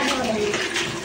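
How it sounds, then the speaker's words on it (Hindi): Water splashes and swishes continuously as clothes are washed by hand in a village home, a steady wet churning that fills the short moment at close range. "कपड़ा धो रही है पूरा।"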